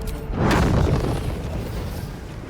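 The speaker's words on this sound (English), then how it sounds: "Good fireball" A fireball spell detonates in Baldur's Gate 3 with a single heavy boom that rolls off into a rumbling tail.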